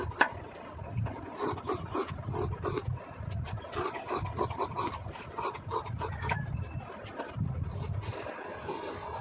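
Sharp scissors cut through a stack of blouse fabric, several layers at once, making a steady, close rasping crunch that continues in short, uneven strokes throughout with no talking.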